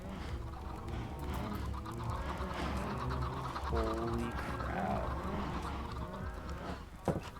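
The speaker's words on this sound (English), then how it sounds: "That is a lot of chickens that I can hear." A large flock of chickens clucks and squawks continuously in Minecraft, a busy overlapping chorus at moderate volume; someone briefly speaks near the end.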